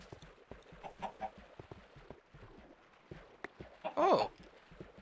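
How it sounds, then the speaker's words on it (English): Chickens in a block-building video game cluck and flutter, soft scattered sounds with one louder squawk near the end, no talk. "the chickens don't want to drown. So they just flutter around and poop out their eggs"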